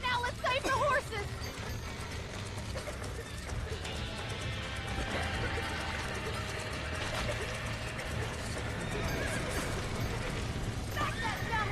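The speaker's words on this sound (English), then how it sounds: "Now let's save the horses!" Horses whinny and hooves clip-clop at a gallop in a Red Dead Redemption game scene, a continuous dense mix of neighs, hoofbeats and background commotion with a person talking over it.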